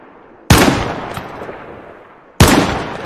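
Two loud gunshots in the survival game DayZ, about two seconds apart, each a sharp crack followed by a long decaying echo that rolls out across open terrain.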